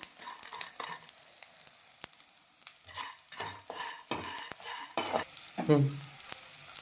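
Ingredients for homemade protein powder frying in a pan, with soft scraping stirs and a light crackling sizzle, accompanied by intermittent clinks of a spatula against the pan, close and moderately quiet.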